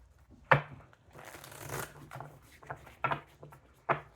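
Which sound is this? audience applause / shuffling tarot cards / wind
shuffling tarot cards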